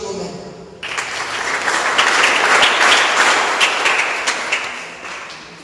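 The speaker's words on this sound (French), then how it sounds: "Alors, nous demandons d'applaudir pour nous-mêmes." A church congregation breaks into applause after a short quiet start, a broad wash of many hands clapping that builds and holds steady, fairly close and loud, with no talk over it.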